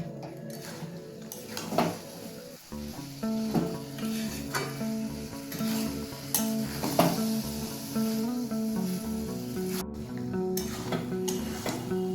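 Lentils being mixed with spices in a kadhai, with a metal spoon clanking and scraping in repeated strokes over a soft sizzle, close and steady.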